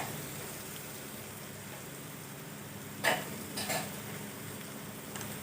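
Radish pieces being stirred in a frying pan give a faint, steady low sizzle, broken by a few soft scraping knocks of the spoon against the pan partway through.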